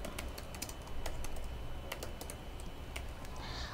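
Quick, light clicks of typing on a computer keyboard while writing PHP code, with irregular bursts of keystrokes close by over a soft background hiss.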